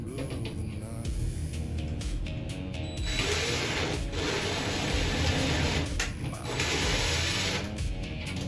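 A power drill drives a screw while mounting a Panasonic bath fan, its motor whirring in several uneven bursts with brief pauses, close by over a constant background hum.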